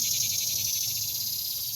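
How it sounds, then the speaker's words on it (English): Shrill, steady buzzing of cicadas, a continuous high drone with slight pulsing, moderately loud against faint low background noise. "The cicadas are out."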